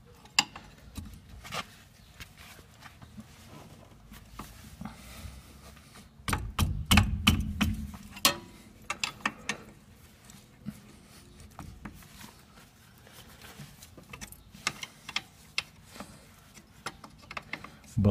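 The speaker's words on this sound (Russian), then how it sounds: "Откручиваем вот эти задние болты." On a Lada Niva, a wrench loosens the 17 mm nuts holding the rear axle gearbox, giving faint metallic clicks and ratcheting taps with a louder burst of clanking midway, recorded close in a quiet garage.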